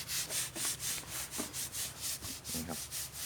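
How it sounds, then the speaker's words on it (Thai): A child's back is scrubbed during a bath, giving close, steady rubbing strokes repeated about three times a second, with a faint voice in the background. "ขัดตรงนี้ขัดหลัง"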